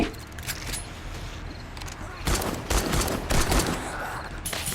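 Gunfire in the survival game 7 Days to Die, loud clusters of shots bursting out in the middle and latter part over a busy game background, fired by a player dressed as an armored soldier.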